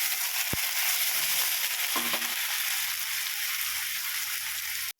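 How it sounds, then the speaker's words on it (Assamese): Onions fry in hot oil with a little cinnamon, a constant loud hiss and crackle that fills the whole stretch and is cut off abruptly at the end, with one soft tap near the start. "পিঁয়াজখিনি ভালদৰে ভাজি লওঁ, কেঁচা গোন্ধটো যোৱালৈকে।"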